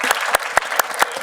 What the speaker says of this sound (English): Let's first applaud.